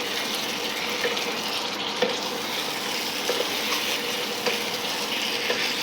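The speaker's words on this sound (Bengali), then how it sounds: "জল দিচ্ছি" Water being poured into a pan of potato curry (alur dom) with fried potatoes and spices, a steady running splash alongside a gentle sizzle, close and continuous for several seconds with no talking.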